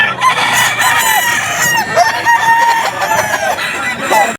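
Roosters crow repeatedly at a busy gamefowl pet market in Bocaue, with several overlapping calls over a loud, constant crowd and animal din.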